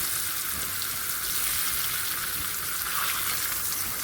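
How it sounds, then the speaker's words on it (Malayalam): Sardines frying in a pan of hot oil make a loud, even, close hiss that holds steady throughout with no voices. "ഇനി നമുക്ക് ഈ മീനൊന്ന് പൊരിച്ചെടുക്കാം നന്നായിട്ട്"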